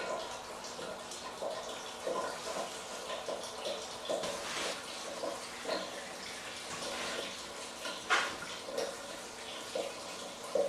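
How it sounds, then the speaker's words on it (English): Water drains and drips steadily through trays of sprouting barley fodder, a continuous wet trickle with scattered louder splashes and drops, fairly close, with no talking. "just let the water that's draining down and dripping enter those and get them good and wet"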